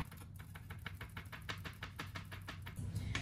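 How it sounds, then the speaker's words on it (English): Garden scallions chopped fast on a board: a quick, even run of about a dozen close, sharp knife taps with no talking. "Chop up your scallions from your garden"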